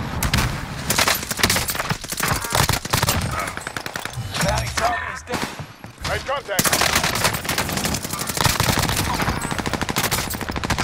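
Sustained automatic and rapid gunfire from a military shooter video game, loud and continuous with dense bursts and a brief lull midway, mixed with game audio and occasional faint voices.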